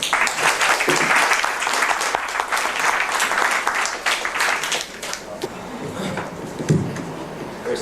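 Audience applause welcoming Professor Brown to a lecture on Islamic and Western perspectives on human rights: dense, steady clapping from a crowd in a hall, loudest at first and slowly thinning toward the end.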